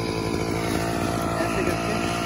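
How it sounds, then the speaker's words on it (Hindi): Engine-driven chaff cutter machine running steadily after a kick start, loud and close, with a continuous buzzing, chainsaw-like engine drone and no pauses. "सो ये कुछ इस तरीके से मशीन है, इसको यहाँ से ऑन किया जाएगा और पुराने इंजन की तरह से इसकी किक को ये स्टार्ट हो गया।"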